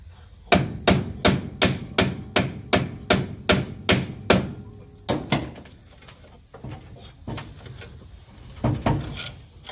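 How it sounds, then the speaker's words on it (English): A hammer repeatedly strikes the 50-some-year-old brake drums of a 1968 Chevrolet Impala Fastback: about a dozen loud, evenly spaced metallic blows, then a pause and a run of sparser, softer hits. "50-some-year-old drums, they may have not appreciated being hammered on"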